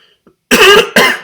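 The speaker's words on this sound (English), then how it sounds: "Didn't mean to cough." Two sharp, close coughs in quick succession, the first longer than the second, after a brief quiet moment.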